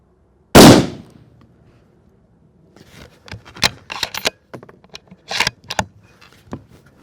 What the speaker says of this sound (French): Tirer les 2 dernières RWS pour valider.